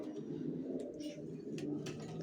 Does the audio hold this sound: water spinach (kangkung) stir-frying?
no